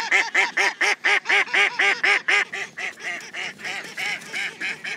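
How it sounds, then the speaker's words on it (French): A wild duck quacks repeatedly in a fast, even series of loud nasal calls, each one short and clipped, with no talking. "un canard sauvage, un oiseau qui est très méfiant"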